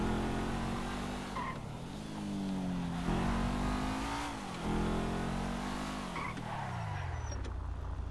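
A car in GTA 5 revs hard and steadily through repeated gear shifts, its engine note rising and dropping, with tire squeal and skidding throughout.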